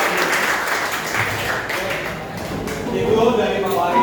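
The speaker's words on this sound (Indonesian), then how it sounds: "Oke, tepuk tangan buat kalian." A small group claps together at the end of an emotion-management practice session, a brief burst of applause that swells and then trails off, with a voice talking over part of it.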